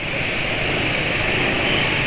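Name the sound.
smooth car engine running after hard revving, Amsoil Signature 5W-50 oil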